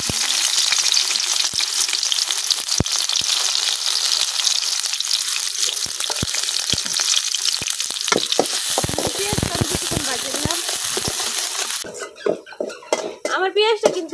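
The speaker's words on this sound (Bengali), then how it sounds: "এখন তেলের মধ্যে দিয়ে দিতেছি কাটে রাখা পেঁয়াজ।" Chopped onion dropped into hot oil in a preheated wok, sizzling loudly and continuously with stirring and scraping near the end, the frying fading into sharp clinks of utensil on pan.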